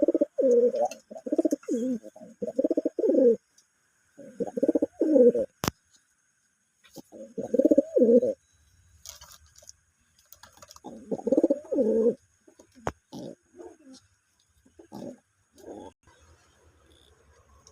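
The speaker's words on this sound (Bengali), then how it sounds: "দেখতে পাচ্ছেন বেনারসের নর কবুতর।" Benaras pigeons coo in repeated deep, throaty phrases of a few seconds each, separated by quiet pauses, close and fairly clear, with a couple of sharp clicks in between.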